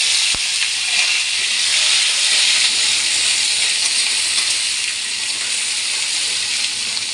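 A single sharp clink, then a loud, steady sizzling hiss as papaya pieces are poured into a hot pan and fry continuously.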